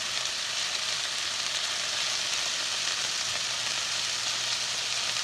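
Butter chicken simmers in sauce in a pan, giving a steady, close hissing sizzle with fine bubbling that holds evenly throughout, with no voices.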